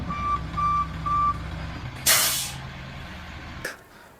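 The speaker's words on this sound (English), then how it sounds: "dump truck." A dump truck backing up, its reversing alarm sounding in three steady beeps over a low idling engine, then a loud hiss of air brakes and a shorter burst of air release.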